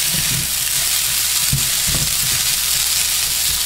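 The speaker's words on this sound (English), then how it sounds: "All I'm doing is breaking up the rice while I do have my stove on medium-high heat." Rice stir-fried in a pan on a stove over medium-high heat gives a loud, constant sizzle, with occasional scrapes and thumps as it is broken up and flipped.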